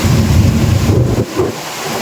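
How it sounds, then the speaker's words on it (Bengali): Heavy storm rain pours down in a loud, dense roar, buffeted by low wind rumble on the microphone, then drops abruptly to a thinner hiss partway through; no voices. "অনেক জোরে বৃষ্টি নেমেছে।"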